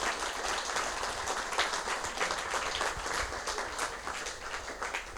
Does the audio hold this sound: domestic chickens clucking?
no